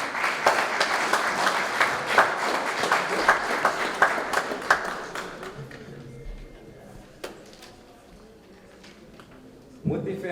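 Audience applause at a school alumni gala, loud dense clapping for about five seconds that thins and fades, then a brief quieter burst near the end, with voices murmuring underneath.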